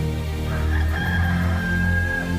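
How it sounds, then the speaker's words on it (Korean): A rooster crows in one long drawn-out call, loud and close against a steady background, with no talking over it. "베드로의 말이 미처 끝나기도 전에 닭이 곧 울었다"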